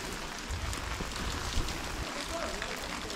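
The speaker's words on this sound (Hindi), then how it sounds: "चारों तरफ बारिश हो रही है" Steady rain patters all around in an even, hissing wash with a faint rumble underneath, at the Vishwa Shanti Stupa on Ratnagiri hills.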